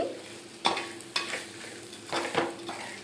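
Potato pieces frying in a pan with a low steady sizzle, punctuated by three or four sharp scrapes of a spatula stirring against the metal, close up and fairly quiet, no speech.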